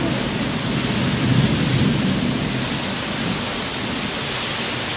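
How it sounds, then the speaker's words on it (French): Rain and thunder from a small storm in the game Gan 64, a steady loud rain hiss throughout with a low thunder rumble swelling around the first and second seconds, no talking. "Petite tempête."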